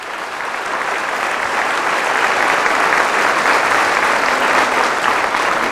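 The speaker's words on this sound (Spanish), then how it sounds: "Fuertes aplausos a la palabra del Señor." Church congregation applauding during Mass after the reading, a dense sustained clapping that swells in the first second and holds steady and loud throughout.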